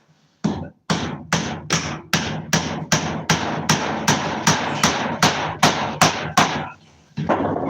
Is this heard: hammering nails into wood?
yes